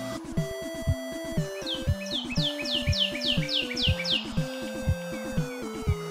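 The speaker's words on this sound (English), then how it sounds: "the cardinal here is singing its guts out" A northern cardinal sings during spring migration at Long Point, repeating a series of clear, downward-slurred whistled notes in a steady rhythm, fairly close and distinct over a background of other tonal sounds.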